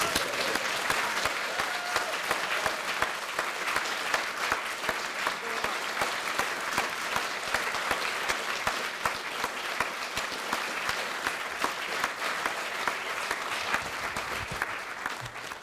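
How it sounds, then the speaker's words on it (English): A theatre audience gives sustained, even applause after a performance of the play The Way to the Stars. The crowded clapping stays steady throughout, with no voices over it. "Please give them all a thoroughly massive round of applause again."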